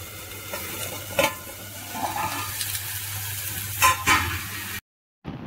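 Tomatoes with green chillies fry in a pan, a steady close sizzle broken by a few louder stirring scrapes before cutting to brief silence.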